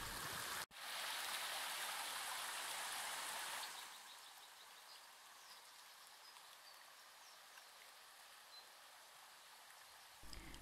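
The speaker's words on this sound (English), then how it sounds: "she might go in and just have a little plodge about" A dog wades and paddles in shallow, cool river water on a hot day, giving a loud, steady splashing rush for a few seconds that then eases into softer, continuous trickling and flowing water, with no voices.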